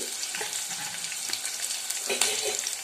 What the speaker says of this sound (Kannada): ಇದನ್ನು ಸ್ವಲ್ಪ ಎಣ್ಣೆಯಲ್ಲಿ ಏನು ಮಾಡಬೇಕು ಬಾಡಿಸ್ಕೋಬೇಕು